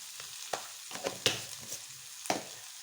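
Thin-cut eggplant pieces with turmeric frying quietly in a pan, a faint sizzle with a few soft spatula taps and stirs scattered across the moment.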